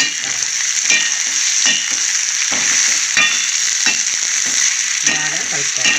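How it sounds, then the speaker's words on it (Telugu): Pieces frying in oil with salt and chili powder, a loud, constant sizzle close by, broken by repeated scraping stirs of a spoon against the pan. "ముక్కలు కొద్దిగా ఫ్రై అవ్వాలి"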